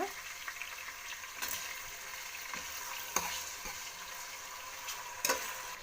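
Onion and tomato fry in oil in a pan for a rice bath breakfast dish, giving a steady close sizzle broken by occasional scrapes and clinks of stirring, with no talk.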